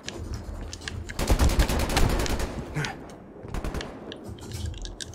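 Rapid bursts of automatic gunfire in Black Ops Cold War, a dense close volley followed by shorter, scattered rattles of shots.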